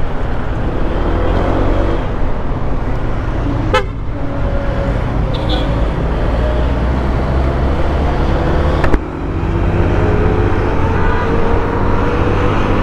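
A Honda ADV 160 scooter rides through traffic, its engine and wind noise a loud, constant roar, with a couple of short car horn toots sounding along the way.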